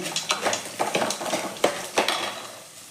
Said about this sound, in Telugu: ఇవి కూరగాయలన్నీ మంచిగా ఫ్రై అయిపోయినాయి